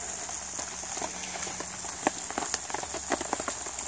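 Steady rain patters on a camp tarp on a nasty January day, with sharper drops ticking nearby over a continuous hiss and a small fire under the shelter.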